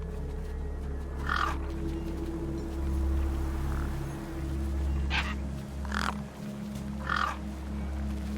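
Birds feeding on a corpse in the video game Beyond a Steel Sky: several harsh crow-like caws spaced a second or two apart over a steady low ambient drone.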